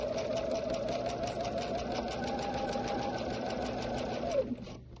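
A sewing machine stitches quilt fabric in a steady, even mechanical whir close by, running continuously before slowing and stopping near the end.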